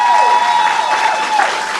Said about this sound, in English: Graduates, could we give them a round of applause?